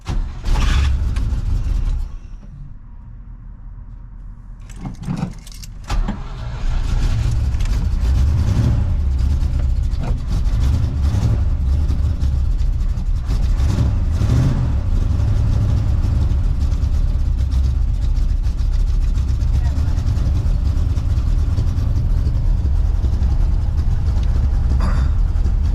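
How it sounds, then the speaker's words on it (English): A worn-out 1979 Chevy engine on a cold morning cranks briefly, stumbles, then catches and settles into a steady, rumbling idle that runs on and on with no talking. "All right, cold start."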